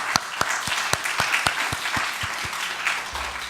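A church congregation claps in thanks during a Thanksgiving Sunday service. The applause is a rhythmic, fairly loud run of claps that carries on for several seconds before tapering off.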